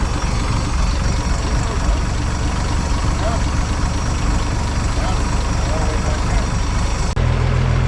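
A vintage boat engine runs at a loud, steady drone with a deep rumble throughout, and its tone shifts abruptly near the end as the throttle is opened.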